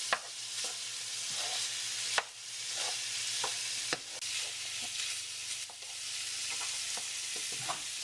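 Meat for lasagna is stirred as it cooks in a pan, with a steady quiet sizzle, several sharp scrapes and taps of the utensil against the pan, and a low hum running underneath.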